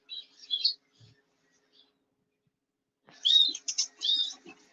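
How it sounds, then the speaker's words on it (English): A bird inside a netted bird centre gives a few short high chirps, then a louder cluster of twittering calls after a quiet gap, close by and alone with no talk. "So as you see, this one's flying about."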